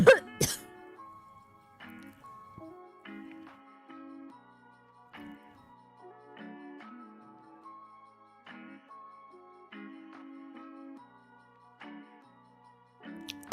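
Repeated coughing, a loud burst at the start and then a steady series of softer coughs at a regular rhythm, from a person with an irritated throat, close up and with no talk.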